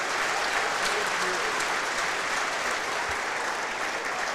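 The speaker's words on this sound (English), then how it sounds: "he gets a round of applause here from the Kohl Center crowd" Kohl Center crowd at a WIAA Division 1 state semifinal boys' basketball game gives an injured player a sustained round of applause, a steady, even wash of clapping from a large arena audience.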